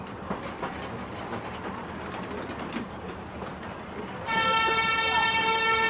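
An amusement park train ride at Fantasy Kingdom in Ashulia, Savar, Dhaka rolls along with a steady rumble, then a loud sustained horn blares through the final second and a half.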